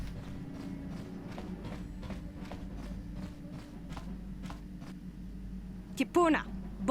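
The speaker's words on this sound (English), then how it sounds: "You hear the echo footsteps coming from the direction of the cargo hold." Echoing footsteps from a starship cargo hold in Star Wars: KOTOR tread in a steady, evenly spaced rhythm over a low ambient hum, followed by a brief burst of voice-like sound near the end.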